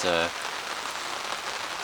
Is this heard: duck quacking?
no